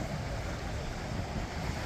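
Sea surf at a coral beach in Sharm El Sheikh, a continuous broadband wash of breaking water mixed with heavy wind buffeting the microphone, steady and fairly loud.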